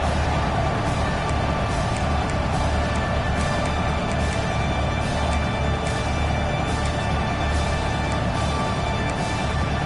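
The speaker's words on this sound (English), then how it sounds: "These fans are going absolutely nuts." Loud stadium crowd in a Madden football video game, a dense, constant roar of cheering fans filling the whole stretch at high volume with no letup.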